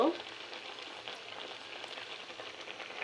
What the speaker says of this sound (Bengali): এবার আমি আরেকটু নেড়ে নেব।